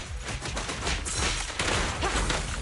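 Rapid, dense video game gunfire keeps up a continuous rattling fusillade of shots for the whole brief burst, loud and close.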